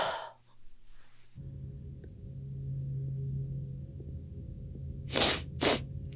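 Two short, breathy sniffs in quick succession near the end, sounding close over a quiet background hum, with a faint breathy burst at the start.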